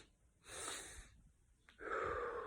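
Two slow, deep breaths drawn in close to the microphone during a calm breathing exercise, the first filling the lungs most of the way, then a short pause and a second inhale to top them off, with no talking.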